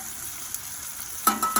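A burger and onions sizzle in a skillet on a Big Green Egg grill, a soft steady hiss that flares into louder crackling bursts near the end.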